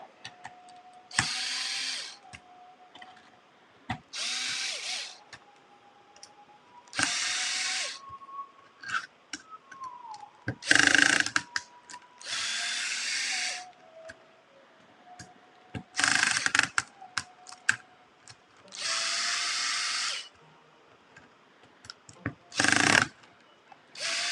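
Short bursts from a power tool loosening parts while an RC car is assembled, several separate whirring runs of a second or two each, spaced by quiet pauses with small clicks and handling noises, close and fairly quiet.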